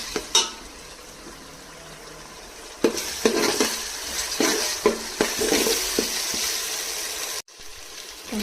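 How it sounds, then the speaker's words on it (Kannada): Finely chopped onions dropped into hot oil in a pan for mutton biryani, crackling and sizzling steadily with repeated scraping stirs and a brief clatter, close and fairly loud with no talking. "ಸಣ್ಣದಾಗಿ ಹೆಚ್ಚಿರೋ ಈರುಳ್ಳಿನ ಹಾಕೋತಿದ್ದೀನಿ."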